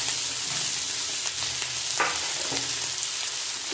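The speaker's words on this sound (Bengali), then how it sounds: "এখন সবজিগুলো ভেজে দেবো সাদা তেল, এখন সবজিগুলো ভেজে নেব।" Carrots and mixed vegetables fry in white cooking oil for chow mein, a steady close sizzle with occasional stirring clicks, no talking.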